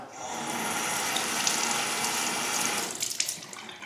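Tap water runs steadily into a bathroom sink during a face rinse, a close, continuous splashing rush that shifts into choppier splashes near the end.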